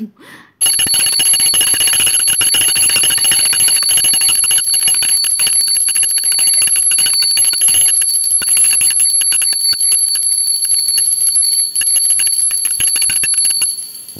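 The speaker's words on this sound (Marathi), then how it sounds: "घंटी घेऊन पळाला." Small brass hand bell rung continuously during a household puja, a bright rapid metallic ringing that starts abruptly and carries on loud and close for over ten seconds.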